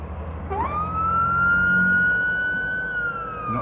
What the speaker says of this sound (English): Is that a fire engine?